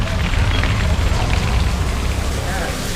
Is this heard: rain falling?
yes